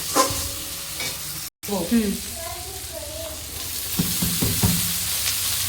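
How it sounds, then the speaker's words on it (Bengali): Figs dropped into a spice mix frying in oil, a steady sizzle with a sharp break and then bubbling crackle, under a few soft scrapes and a brief voice. "এই ডুমুরগুলো এবার দিয়ে দেওয়া হলো।"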